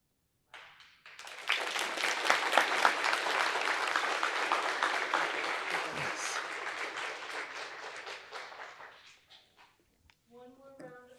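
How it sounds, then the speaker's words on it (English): An audience at a Justice Thurgood Marshall celebration gives a speaker a sustained burst of applause that swells quickly, holds steady for several seconds and fades. A voice follows briefly after. "One more round of applause for Mr. Jeff Robinson."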